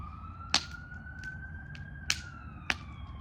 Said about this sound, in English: Some of that is firefighters or ambulance.